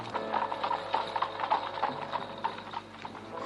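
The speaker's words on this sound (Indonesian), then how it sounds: "Mungkin bunyi kereta kuda Mak Rompang hanya ditujukan untuk aku saja." Hooves of a horse pulling a carriage clip-clop in a quick, steady rhythm, fairly close and clear with a faint background hum and no talk.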